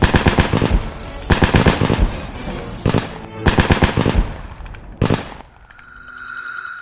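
Rapid automatic gunfire bursts during Vietnamese military training, loud and close, in several sharp rattling volleys separated by brief pauses, ending in a quieter hum of the outdoor setting.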